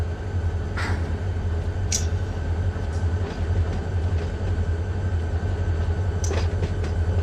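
A train in the Run 8 simulator game rolls past a switch with a steady low rumble and engine drone, with a few faint clicks and squeals from the rails over it.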